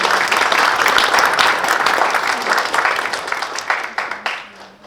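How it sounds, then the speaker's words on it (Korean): Audience applause at a Pyeongtaek international peace and security forum, as a seated crowd claps warmly after a special speech, a thick even wash of clapping that gradually fades and scatters toward the end. "박영선 전 중소벤처기업부 장관님께 다시 한번 뜨거운 박수 보내드리겠습니다"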